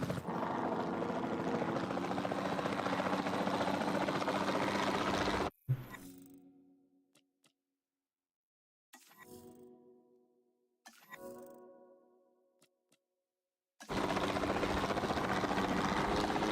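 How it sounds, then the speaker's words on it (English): Capture team helicopter in Jurassic World Evolution 2, a loud steady rotor roar for over five seconds that cuts out abruptly, then sparse mechanical clanks and brief bursts before the roar resumes near the end. "take a capture team helicopter"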